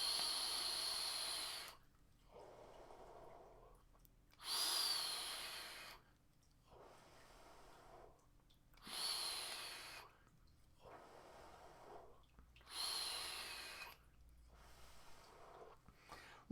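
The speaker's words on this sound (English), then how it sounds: "Let's give it a vape and see what we think." Someone draws from a Nest RDA rebuildable dripping atomizer vape at around 60 watts, making airy, hissing pulls that alternate with softer, duller stretches about every two seconds, quiet and close, with no voice.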